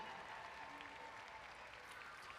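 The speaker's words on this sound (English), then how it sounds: "Sydney, let's give her a big round of applause." Spectators at a campdraft horse event applauding, a faint, distant wash of steady clapping from the crowd heard at low level.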